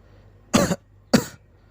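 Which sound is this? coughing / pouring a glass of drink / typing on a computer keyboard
coughing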